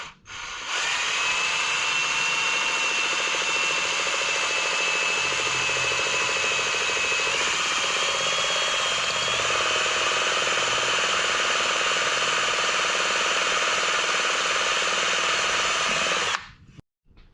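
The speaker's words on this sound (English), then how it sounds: "I'm going to drill a starter hole in the old seal." A power drill bores a starter hole into an old axle seal on a Roper 16T transaxle, a loud, steady whining drone that holds for about fifteen seconds with a slight pitch shift midway, then cuts off.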